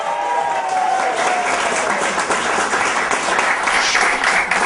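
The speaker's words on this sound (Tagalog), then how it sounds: "pero palakpak muna kayo" An audience at a youth program claps in steady, continuous applause that stays loud and even throughout.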